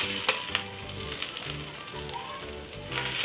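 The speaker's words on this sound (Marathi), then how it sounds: "कांदा भाजून घेऊया आता" Onions frying in oil in a pan for a Marathi moong dal curry, a continuous close crackling sizzle with a few sharp pops and light stirring, moderately loud and without speech.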